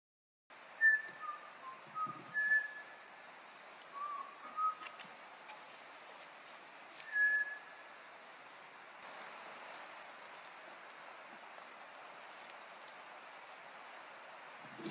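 Several short, faint whistled chirps ring out one at a time in quiet woods, spaced a few seconds apart over a soft background hiss.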